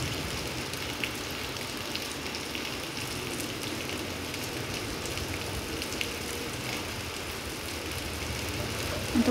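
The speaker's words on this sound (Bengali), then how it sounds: "দেখো সবাই একটু দেখো কেমন বৃষ্টি পড়ছে" Heavy rain pours down outdoors in the dark during a power cut, a dense, even roar of drops that holds steady and fills the whole stretch without pause.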